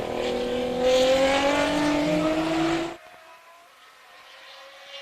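Race cars on a time attack track at The Speed Ring roar loudly past at close range with high engine tones, then drop off sharply to a faint distant engine hum.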